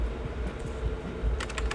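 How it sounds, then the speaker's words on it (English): Quick typing on a computer keyboard while setting up a double jump in Unreal Engine 5: a brief burst of close, light key clicks over faint background hum, ending in a short cluster of taps. "So let's type in movement."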